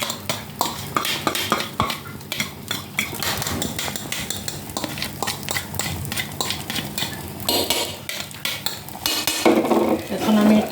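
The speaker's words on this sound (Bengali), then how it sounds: "এখন হালকাভাবে দিয়ে দিলাম ফ্রাই প্যানে" Beaten egg cooks in a frying pan with scraping and stirring of a utensil against the pan, clinks and taps over a soft sizzle, close and busy throughout with no talking.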